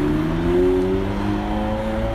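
An expensive car engine in Napa, California, hums close by with a smooth tone whose pitch climbs gently as it revs, steady and alone without any talk.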